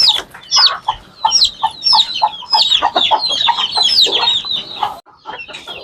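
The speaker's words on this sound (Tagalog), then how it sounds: "Lagyan na natin yung ating mga sisiw" Young chicks cluck and peep in a rapid, busy chorus, loud and close, with overlapping high calls running almost continuously before easing off near the end.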